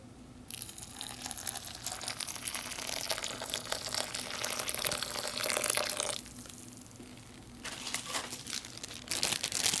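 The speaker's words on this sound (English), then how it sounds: "I'll add some hot but not boiling water." Hot, not boiling, water pours into the plastic bag of a 1983 Long Range Patrol ration packet of escalloped potatoes: a steady near rushing splash with plastic crinkle, briefly easing midway before resuming.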